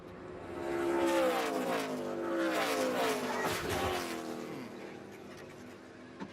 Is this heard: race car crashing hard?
yes